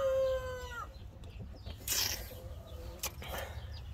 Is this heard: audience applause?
no